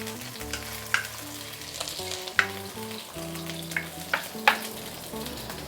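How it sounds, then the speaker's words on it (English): Aromatics stir-fried in a wok for soy sauce prawns, a constant crackling sizzle punctuated by several sharp spatula scrapes, with a low steady hum behind, no voices. "Give it a few stir until you smell the aroma coming out from both of these ingredients"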